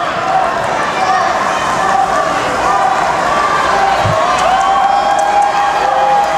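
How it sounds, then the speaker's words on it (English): A crowd applauds and cheers for a wheelchair slalom athlete at an indoor sports event, a steady wash of clapping running throughout beneath a commentator's voice. "He gets through it, gets a great hand from the crowd in doing so"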